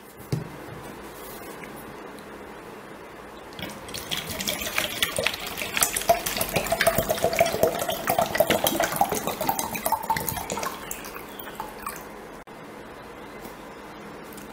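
Water is poured into a small pot for a homemade Frozen snow globe, giving a steady trickling wash that builds in the middle and fades out, with no talk over it.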